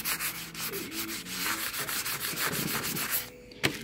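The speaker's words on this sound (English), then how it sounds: "take a wet sanding sponge" Close, rhythmic rasping strokes of a wet sanding sponge scrubbing oxidation off an aluminum scuba tank, brisk and continuous, ending with a sharp knock.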